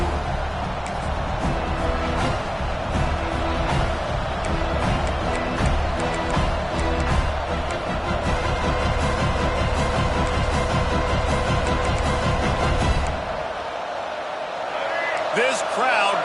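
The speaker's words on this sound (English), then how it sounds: "This crowd bringing an ear-splitting welcome to their visitors." A packed college football stadium crowd at an Ole Miss versus Florida game roars in a dense, continuous wash of cheering and noise under an announcer's voice, cutting off abruptly near the end.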